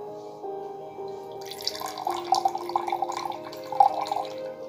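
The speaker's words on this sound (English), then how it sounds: "Now I'm increasing the weight by adding water." Water trickles and drips into an upturned bottle during a vacuum candle science experiment, a steady, close pouring that grows busier and splashier over the last few seconds.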